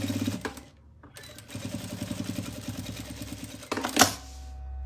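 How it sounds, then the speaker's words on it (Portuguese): A sewing machine runs a side seam on a fabric wallet, a rapid, even needle chatter between short pauses and a louder clunk near the end, close and without voices. "vou usar uma costura bem na lateral."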